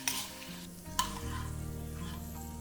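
Shrimp, deveined and dressed with a little lemon, cook briefly in a hot pan with a steady close sizzle, a clatter of stirring near the start and a sharp utensil knock, then continuous frying hiss.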